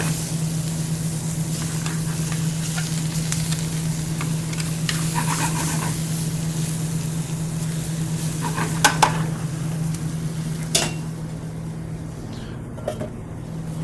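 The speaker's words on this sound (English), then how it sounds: "We want to cook the onions and garlic just enough to get a little caramelization on them" Onions and garlic sauté in a pan with dried oregano and basil, a steady low sizzle running throughout beside a constant hum, with a few sharp clinks of utensil against pan near the end.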